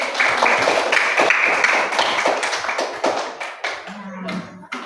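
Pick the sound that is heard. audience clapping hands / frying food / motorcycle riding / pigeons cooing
audience clapping hands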